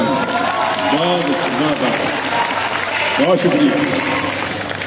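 Audience applause at a poetry mushaira at a Lucknow university, steady crowd clapping running underneath someone speaking over it near the microphone.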